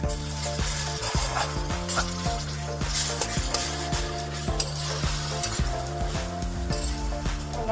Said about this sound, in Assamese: এয়া আদা নহৰু পিঁয়াজ ভাজি হৈ গ'ল।